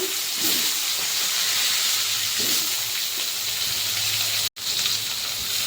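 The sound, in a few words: frying cut potatoes in oil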